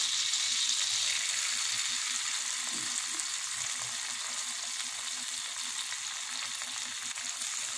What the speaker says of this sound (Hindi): इसे सॉटे कर लेंगे।